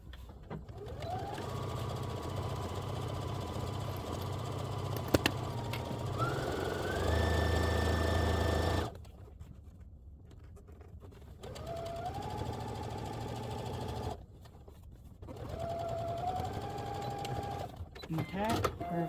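A sewing machine stitches a zippered project bag in several sustained runs of rapid, even whirring, its motor speed shifting between bursts and pausing in short gaps.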